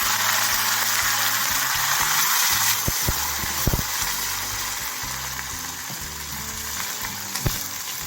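Cumin, mustard seeds, dried red chillies and curry leaves fry in hot oil in a pan, with a steady loud sizzle and a few sharp crackles and pops throughout.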